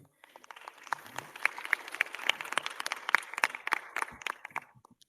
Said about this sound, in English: So let's give it an applause to Jane.